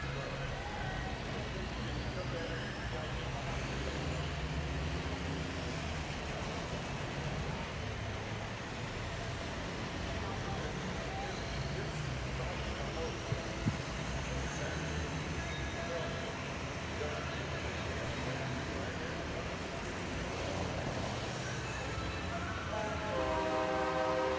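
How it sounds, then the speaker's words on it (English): Heavy diesel race truck engines rumble and roar at a speedway in a dense, sustained drone, with horn-like tones rising over it and voices faintly underneath. "we are going to listen to the sounds of the diesel"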